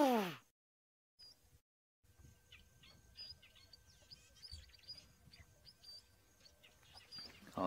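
Banded mongooses give faint, bird-like chirps and squeaks in scattered bursts across a quiet outdoor scene, with soft rustling underneath.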